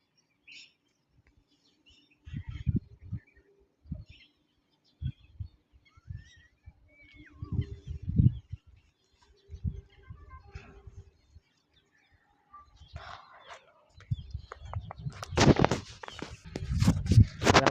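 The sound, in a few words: birds chirping outdoors, nature sounds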